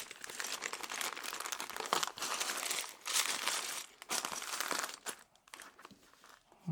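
Small plastic zipper bags used for packing LEGO parts are squeezed and handled close up, giving soft, repeated crinkling and crunching in uneven bursts with short pauses, and no talking.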